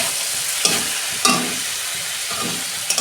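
Spice paste with tomato and a splash of water frying in a pan, a steady bright sizzle with a few sharp stirring scrapes and clicks scattered across it, close and alone with no voices.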